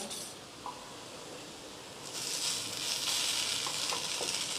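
Tomato appe being flipped in an appe pan, a steady sizzle that brightens and grows louder halfway through as they are turned, with a few light clicks of the utensil against the pan.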